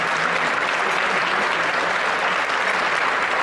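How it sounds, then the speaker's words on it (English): Audience members at a transportation summit luncheon applaud, a steady, even roar of many hands clapping at once that holds at constant volume from start to finish. "If you could give all of those organizations a round of applause."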